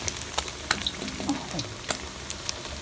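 Gourami fish fries in hot oil on the stove, a constant bubbling sizzle broken by sharp pops and crackles at close range, with no speech.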